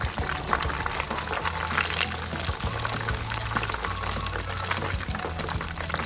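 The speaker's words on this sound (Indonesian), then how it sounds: "kita gorengnya selera sih, agak yang mau kuning, kalau aku agak kecoklatan sedikit, jadi betul-betul garing" Coconut root cookies (kue akar kelapa) frying in hot oil give off a dense, crackling sizzle that holds steady at close range, with light stirring and scraping and no talking.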